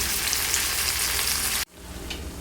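Drumstick stalks fry in oil with poppy seed, mustard and green chilli. A loud, steady sizzle drops suddenly to a quieter crackle partway through.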